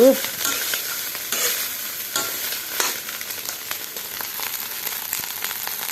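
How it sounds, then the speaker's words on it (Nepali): Leftover rice sizzles and crackles in a hot pan, with steady frying hiss and occasional scraping stirs, close up and without talk. "बासी भात भुटेर लगिदिँदैछु"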